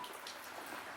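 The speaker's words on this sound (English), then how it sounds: "it's pouring down rain as per usual in the good old Northwest" Heavy rain pours down steadily in the Pacific Northwest as a dense, continuous hiss of drops striking surfaces, faint and unbroken throughout, with no talk.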